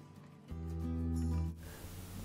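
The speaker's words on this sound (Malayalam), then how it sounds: "അപ്പോൾ ഞാൻ ഈ പാൽ പൊട്ടിച്ച് ഈ പാത്രത്തിലേക്ക് ഒഴിച്ചു കൊടുക്കുകയാണ്." Milk poured from a packet into a vessel gives a brief one-second stream with a resonant, rising tone, quiet and close, with no talking.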